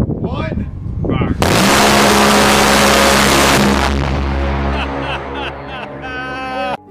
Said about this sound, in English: its cannon, the Gal 8 Avenger, can lay down democracy at a rate of 70 rounds per second